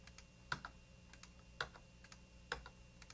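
A computer keyboard is tapped in a few sharp, spaced keystrokes with lighter clicks between them, close and quiet at a desk, with no talking.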